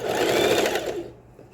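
A sewing machine runs close and loud in a short burst as it stitches the strap of a cropped bra, then stops abruptly.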